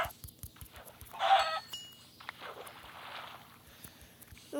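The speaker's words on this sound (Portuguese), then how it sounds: "Galinha aqui também, galinha." A chicken in a video game lets out a short clucking burst among soft, steady clicking footsteps, with quieter game sounds trailing after.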